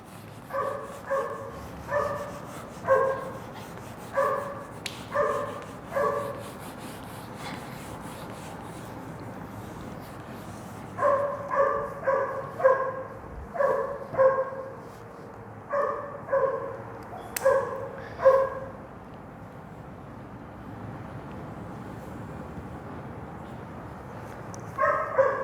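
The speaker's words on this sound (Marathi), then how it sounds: "कुत्रा का थकत नाही यार कधी" A dog barks repeatedly in the background during a physics lecture, firing rhythmic clusters of two to four barks with pauses between them, moderately distant and steady over the whole stretch.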